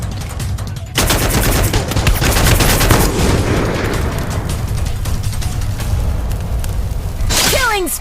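Rapid gunfire in the mobile shooter Free Fire, with loud, dense bursts of automatic shots that run almost without a break, plus a few whooshing effects near the end.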